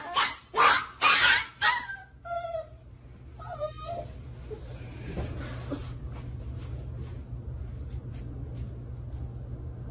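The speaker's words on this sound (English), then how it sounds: "of the dog screaming and yelping in pain with what sounds like her striking it" A 3-month-old puppy screaming and yelping in pain, a burst of loud, shrill cries and rapid yelps in the first few seconds, then fading into faint whimpers over a low background hum.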